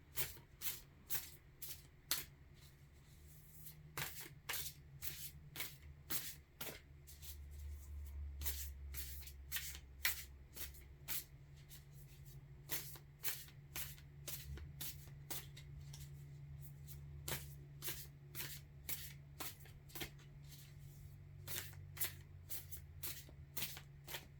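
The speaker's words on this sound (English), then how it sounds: "she takes so long to shuffle" Tarot cards being shuffled by hand in repeated crisp riffling bursts, steady and close over nearly half a minute, with short gaps between passes and a faint low hum beneath.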